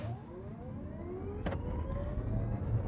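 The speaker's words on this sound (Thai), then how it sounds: "ลอง0ถึง100ก่อนนะครับก็ดูว่าอัตราเร่งการปล่อยไฟของเขาเป็นไงกันบ้างนะครับ" A 2023 Toyota bZ4X AWD electric car accelerates hard from a standstill toward 100 km/h, heard from inside as a faint rising electric motor whine over low road and tyre rumble.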